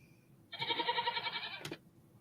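A goat bleat sound effect plays as one loud, wavering, nasal bleat lasting about a second, followed by a short click and quiet background.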